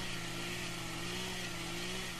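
A chainsaw in Farming Simulator 2013, cutting trees with a steady, high-revving drone that holds loud and even for the whole stretch.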